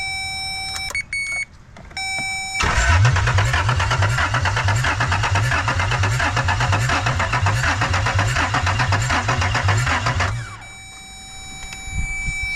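A Toyota 4Runner engine cranks off a Milwaukee jump box in pouring rain: a loud, steady, rhythmic churning of starter pulses runs for about eight seconds without catching, then cuts off, leaving quieter background noise.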